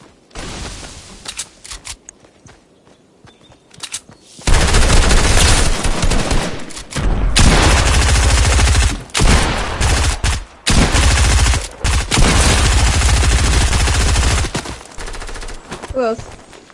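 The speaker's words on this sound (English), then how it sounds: "Who's shooting at you?" Loud bursts of gunfire crack and rattle in rapid clusters, some sustained like automatic fire and others broken by short gaps, following a quieter opening stretch.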